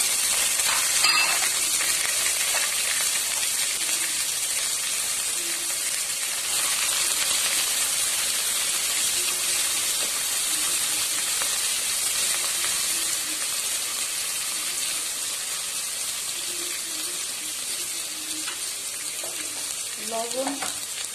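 Chopped onion and golden garlic fry in a pan, making a steady broad sizzle that holds for a long stretch, with a few faint utensil clinks and no voices.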